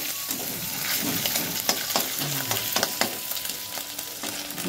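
Potatoes and cauliflower frying for vegetable biryani in a wok, an even sizzle broken by repeated scraping stirs and spatula knocks, close and alone without speech.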